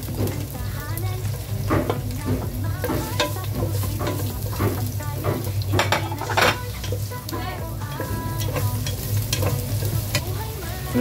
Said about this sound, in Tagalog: magigisa tayo ng bawang.